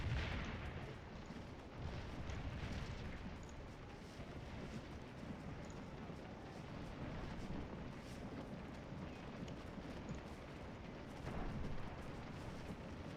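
Distant Civil War cannon fire at Gettysburg in a strategy game, a dull continuous rumble of artillery with faint booms under a steady wash of battlefield ambience and no voices.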